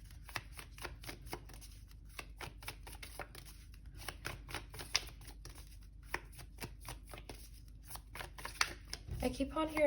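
Moonology oracle cards being shuffled close up, a steady run of rapid riffling flicks and soft slaps that carries on throughout before a brief louder rustle at the end.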